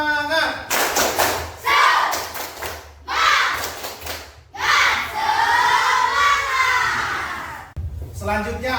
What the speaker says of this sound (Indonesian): coba tepuk semangat, ya